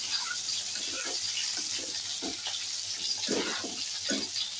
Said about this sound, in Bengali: এই পালকটা আর একটু জল দিয়ে ধুয়ে তোমার এটাকে ঢেলে দেওয়া হলো